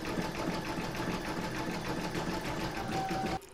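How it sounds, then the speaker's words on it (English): An embroidery machine runs steadily as it stitches a zigzag round joining two fabric pieces for an in-the-hoop table topper, a dense, even mechanical whir with rapid needle rhythm throughout, stopping abruptly near the end. "going to pop this into my machine and stitch round number 11, and that's going to do the zigzagging to join these two pieces together"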